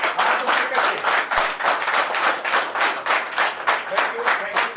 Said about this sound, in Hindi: मैं चाहूंगा सर के लिए एक बार जोरदार तालियां